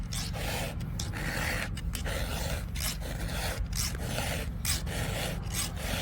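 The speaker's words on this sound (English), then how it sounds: "I love sharpening chainsaws." A file rasps steadily across a chainsaw chain to sharpen it, in even back-and-forth strokes with brief pauses between them, close up and alone.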